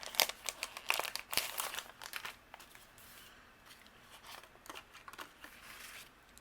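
Cardstock being trimmed down for top-folding A2 Halloween cards, with a burst of crisp crinkling and snipping paper sounds early on, then quieter intermittent rustles and soft cuts.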